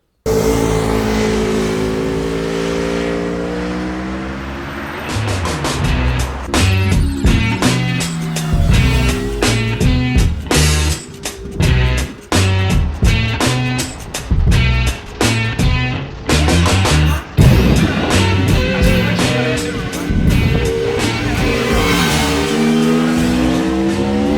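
A Honda VFR800 motorcycle ridden on an open road, its engine loud and close, rising and falling through repeated revs and gear changes.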